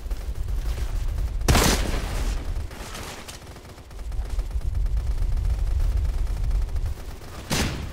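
Bursts of rapid gunfire aimed at a cave ceiling in the Deadfall Adventures game roar almost without pause, a dense fusillade broken by a few sharper, louder cracks standing out near the start and end.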